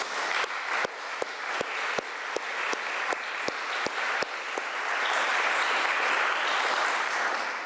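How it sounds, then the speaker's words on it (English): Loud, sustained applause from an audience at a divinity school event, dense clapping that swells and holds steady throughout. "A round of applause for them, please."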